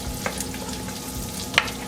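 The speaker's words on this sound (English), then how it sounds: "right now you just want to go ahead and saute your broccoli stems until they're softened" Broccoli stems sauté in a hot pan, a soft continuous sizzle and crackle with a couple of brief stirring clicks, close up and with no talking.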